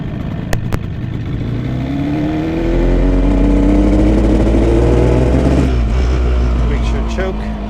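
Two-stroke motorcycle on a short test ride on dry roads, engine droning steadily then rising in pitch as it accelerates, a continuous loud mid-range buzz with wind noise throughout.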